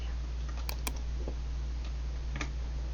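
Keys clack on a computer keyboard during a PowerPoint exam exercise, a few separate sharp strokes with pauses over a steady low background hum.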